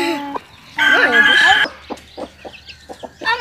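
Hen clucking and crowing-like calls among newly hatched chicks in a rural yard in Ceará, Brazil; a loud sustained call in the middle, followed by a series of short, close clucks and faint chick peeps.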